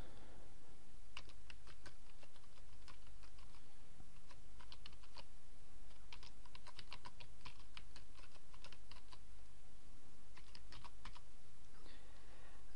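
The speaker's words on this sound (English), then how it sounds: "I'm going to give the new user the username Sam the Man, and the email address." Someone types a username and email address on a computer keyboard, with rapid bursts of close key clicks and short pauses between them, over a steady background hum.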